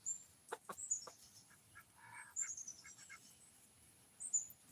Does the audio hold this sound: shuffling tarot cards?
no